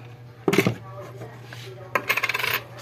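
Coins drop into a coin-operated pisonet computer in two bursts: a first metallic clatter, then a longer run of rattling clinks as more coins fall, close and bright against a steady electrical hum.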